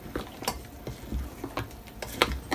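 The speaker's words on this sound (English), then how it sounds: "I'm just gonna use my spoon. So mix it up." A spoon stirs banana cake batter in a bowl, giving a series of quick soft taps and clicks against the bowl in an uneven rhythm, close and fairly quiet.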